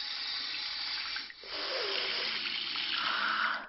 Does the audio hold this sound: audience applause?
no